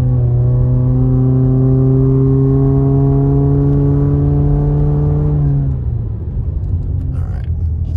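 A car pulls hard up a snowy town road with the engine revving loud and steady, rising in pitch for about five seconds before easing off into a low rumble of tires and road noise.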